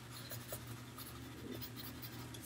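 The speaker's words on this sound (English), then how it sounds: "erase this part maybe" Writing being erased from a board, a steady close scratching and rubbing that carries on without pause for a few seconds.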